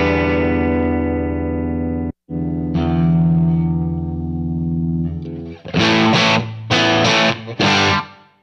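Electric guitar run through a Line 6 Helix Floor multi-effects unit with reverb and some distortion: sustained ringing chords that cut out briefly, swell back with a long reverb tail, then loud strummed chord bursts near the end, no talking.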